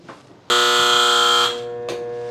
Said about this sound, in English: that is our beeper telling us that it is time